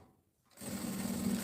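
A sewing machine stitches fabric for handmade craft pieces. After a brief quiet moment it starts up close by, running as a steady, even mechanical whir that holds until the end.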